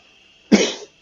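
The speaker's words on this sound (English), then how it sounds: "Pardon the cough." A single close, sharp cough that trails off into a short raspy exhale, heard alone against a quiet background.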